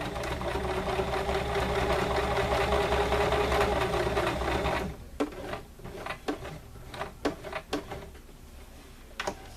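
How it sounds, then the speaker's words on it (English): Sewing machine stitching across a fabric tote, a steady dense mechanical whir for about five seconds that stops, followed by scattered clicks and handling knocks. "I'm going to lift my pressure foot, turn, and sew across till about 1/4 inch from this edge"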